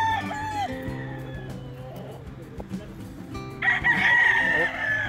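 Gamefowl bird stag roosters crowing at a breeding farm in Tagaytay City, long harmonic calls from several birds overlapping, one loud crow rising near the end, with someone talking nearby.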